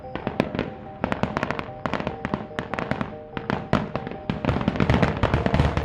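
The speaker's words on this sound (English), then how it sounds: "And don't forget the 4th of July fireworks." Rapid 4th of July fireworks crackle and pop in dense bursts outside a backyard, a continuous barrage of sharp bangs that swells louder toward the end.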